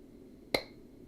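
One sharp hand clap rings out alone against quiet room tone, brief and crisp.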